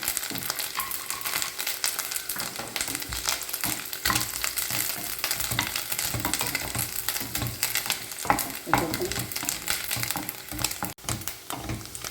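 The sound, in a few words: cashew nuts and coconut roasting in a pan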